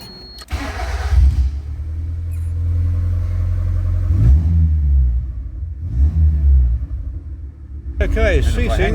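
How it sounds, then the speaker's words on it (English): A hot rod bubble car with its silencer removed rumbles loudly with a deep, steady engine roar, rising into several revving surges before settling to a heavy idle. "I believe the car will now be excessively loud."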